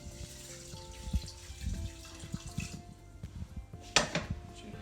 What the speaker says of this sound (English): and then just cover it with water.